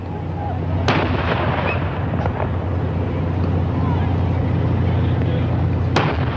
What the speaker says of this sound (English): You hear the 21-gun salute in the background.